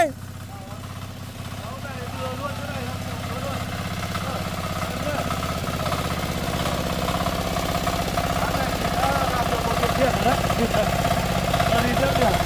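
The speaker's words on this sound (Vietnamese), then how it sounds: "đây đây xem quả máy cày lên" A tractor engine labors steadily up a mountain slope, a continuous mid-pitched rumble growing slightly louder over the clip, with people talking over it.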